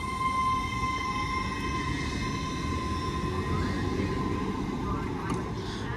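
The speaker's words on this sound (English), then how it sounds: "there goes the 10:38 Avanti West Coast service from London Euston to Blackpool North" An Avanti West Coast express running from London Euston to Blackpool North rushes through Wigan North Western station with a steady, loud rumble and a sustained high whine, growing louder near the end.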